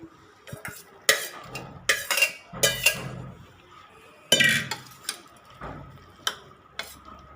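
A spoon stirs jackfruit and salted cooked tapioca leaves together in a pot, giving a run of irregular scraping clinks and knocks against the metal, close and fairly quiet, with brief gaps between strokes.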